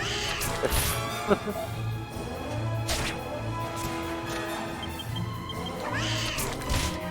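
A jail cat in the video game Dragon Quest VIII, meowing loudly several times with caterwauling cries and sharp crashes between them.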